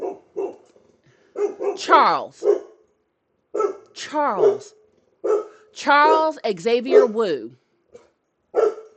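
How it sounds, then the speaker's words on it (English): A pet dog named Charles Xavier gives short barks and drawn-out yips and whines at close range, breaking up a person's talk indoors. "that's my dog"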